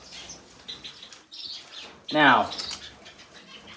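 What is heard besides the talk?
bird flapping its wings as it is released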